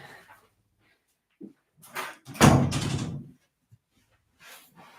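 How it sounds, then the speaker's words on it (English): An indoor door being shut, a solid thud with rattling that rings out for about a second among a few softer knocks and shuffles, against otherwise quiet. "I've just shut the door."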